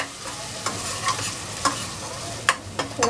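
Masala frying in a pan for brinjal curry, a soft steady sizzle punctuated by several sharp spoon-against-pan stirring clicks, close and without talk.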